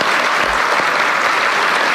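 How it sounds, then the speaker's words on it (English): Audience applause at a public event, loud and dense continuous clapping from a large crowd, sustained evenly for the whole stretch. "he deserves a very robust round of applause for all the work that he has done"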